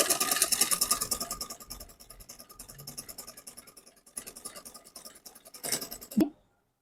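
A sewing machine stitches a straight seam in fast, even bursts of rapid mechanical clatter, close and loud, with short pauses between runs before stopping abruptly.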